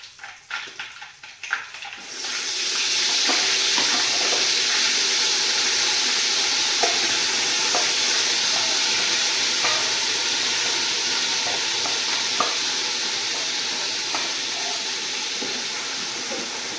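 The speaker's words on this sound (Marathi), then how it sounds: "अद्रक लसूण आणि खोबरं. तर तळायला पाहिजे." Ginger, garlic and coconut frying in a pan at an outdoor family farm meal, starting quiet with faint handling noise, then bursting into a loud, steady sizzle with scattered crackles and stirring taps that continues close up.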